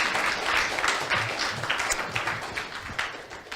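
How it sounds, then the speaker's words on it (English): An audience claps a final round of applause for the last three speakers at a roundtable event, a steady, moderately loud wash of many hands throughout. "So just one final round of applause for them for making it through the whole way."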